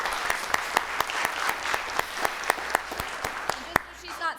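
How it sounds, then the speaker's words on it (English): An audience at a Hampton City Schools board meeting applauds for an honoree; steady clapping fills the room with sharp individual claps standing out in a fairly regular rhythm, moderately loud, fading slightly near the end. "So let's give Dr. Brannon a round of applause."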